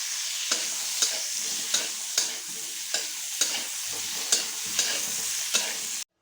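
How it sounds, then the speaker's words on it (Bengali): Eggplant pieces frying in hot oil in a pan for a Bengali shukto, a steady close sizzle with sharp stirring scrapes recurring about every half second. "বেগুনটাকেও আমি একটু লাল লাল করে ভেজে নেব।"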